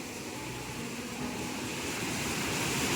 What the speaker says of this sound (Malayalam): നല്ല ഫോഴ്സിലാണ് വെള്ളം വരുന്നത്